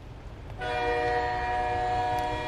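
A train horn blasts in a loud, sustained chord over a low rumbling background, holding steady without a break.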